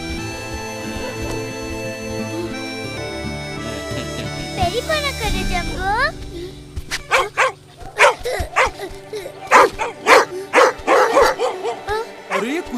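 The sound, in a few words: dogs barking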